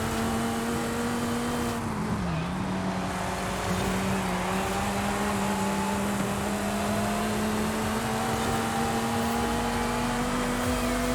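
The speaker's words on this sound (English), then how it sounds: "Damn, that El Camino has a V12 in it. You can hear it." A loud, continuous engine roar from a V12-powered El Camino, with a brief dip in pitch early on before the note climbs gradually and holds steady, no voices over it.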